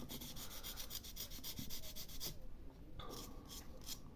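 Abrasive rubbing against the metal contact of an electric kettle being cleaned, a close, continuous scratchy scraping with a steady rhythm that pauses briefly partway through before resuming.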